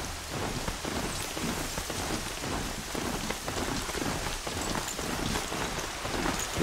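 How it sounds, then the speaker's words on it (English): Steady rain patters on surfaces in the video game Horizon Zero Dawn, a dense, even hiss of drops with scattered louder taps and a low rumble beneath, continuous throughout. "Oh, it's raining."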